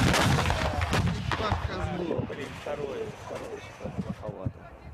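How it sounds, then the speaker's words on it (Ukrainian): Several heavy booming artillery blasts ring out on the outskirts of Donetsk, the loudest near the start, with echoing rumble and excited voices talking over them. "Ця артилерія сепаратистів їде по околиці Донецька. Далі стріляє по українських військовиках."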